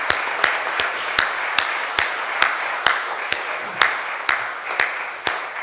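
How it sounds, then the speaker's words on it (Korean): Congregation applauding during a Sunday church service, a steady wash of many hands clapping with sharp individual claps standing out, sustained and fairly close throughout. "우리 감사의 박수 한 번 더 하면 좋겠습니다"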